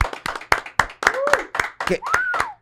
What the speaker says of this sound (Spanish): un aplauso, por favor, amigo